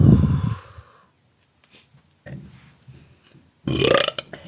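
A girl lets out big, loud belches: one long, deep burp right at the start, then near silence, and a second strong burst of belching toward the end.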